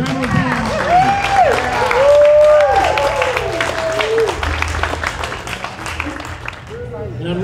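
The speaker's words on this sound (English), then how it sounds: "Let's welcome USA Red and USA Blue. Round of applause." Crowd applause welcoming teams at a blind soccer game in Ohio, sustained clapping and some cheering throughout while an announcer's voice talks over it.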